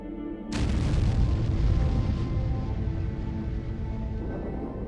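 A massive explosion of a Siberian gas pipeline erupts as a sudden loud boom, followed by a long, heavy rumbling roar that slowly fades over several seconds.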